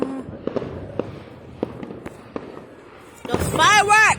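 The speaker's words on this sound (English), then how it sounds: "The fireworks!" Fourth of July fireworks going off outdoors in a run of sharp cracks and thumps, followed by a loud excited voice near the end.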